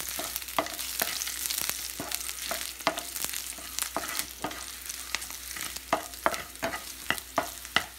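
Garlic sizzles in hot coconut oil while a spoon scrapes the pan in regular, rhythmic strokes, each stir a sharp close tap over the steady frying hiss.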